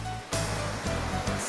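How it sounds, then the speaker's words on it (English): A small waterfall on a clear, icy river on Sibuyan in the Philippines sends up a steady broadband rush of falling water. It is close and continuous, with brief dips in level. "So this is a baby waterfall."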